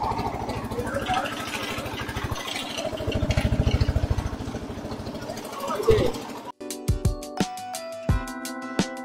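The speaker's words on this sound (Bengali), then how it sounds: "বটবটি চেপে চলেছি ডিয়ার পার্ক" A bhotbhoti motorized boat engine putters in a steady, rhythmic chug under a voice, swelling louder in the middle before music cuts in near the end.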